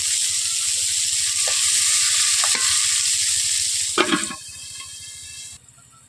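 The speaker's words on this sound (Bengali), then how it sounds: "মটরগুলোকে ভেজে নিচ্ছি।" Green peas frying in oil in a wok, a steady close sizzle with stirring scrapes and a few sharp clatters near the end before the hiss drops away.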